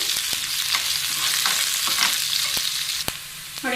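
Onions and curry leaves fry in hot oil in a pan, giving a loud, close, steady sizzle broken by sharp pops and crackles and the occasional scrape of stirring.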